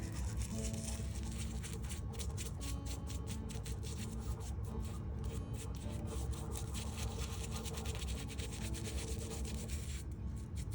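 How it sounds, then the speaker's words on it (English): A home air conditioner runs nonstop, giving a steady broadband whoosh with a continuous low hum and a faint rhythmic scratchy texture throughout, at even loudness with no talk. "That sound you're hearing is my air conditioning."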